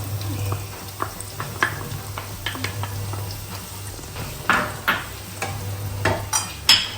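Potatoes and capsicum stir-fry in a pan with a steady low sizzle, while a spoon scrapes and clinks against the pan in repeated strokes, close by.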